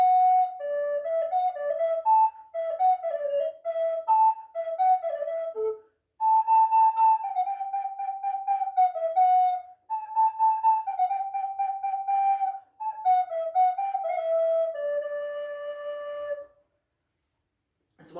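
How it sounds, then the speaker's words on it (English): Solo recorder playing the hornpipe from Handel's Water Music, a bright, clear melody of quick phrases with two short pauses, ending on a held note before silence. "the hornpipe kind of sounds like this"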